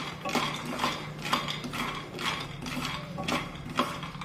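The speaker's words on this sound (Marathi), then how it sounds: "हे शेंगदाणे असे एकसारखे उलटण्याने हलवून घ्यायचे" Peanuts roasting in a pan over a medium gas flame, stirred and turned with a utensil: a quiet series of dry scraping, rattling strokes recurring roughly every half second, with no talking.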